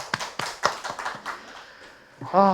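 Scattered claps from a small forum audience thanking a lecturer on resource-recycling shops, a handful of distinct separate hand claps that quickly fade before a voice begins speaking.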